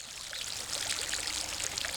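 Water pouring onto plants in the video game Garden Simulator, a continuous splashing stream at steady volume with small bubbly spatters, no speech over it.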